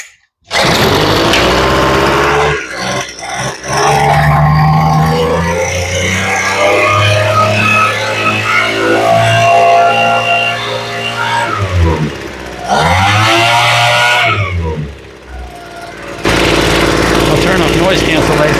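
A Craftsman leaf blower with a freshly rebuilt carburetor is pull-started, then its small two-stroke engine buzzes loudly and steadily nearby, revving up and down and briefly dropping out before catching again, with a voice talking over it.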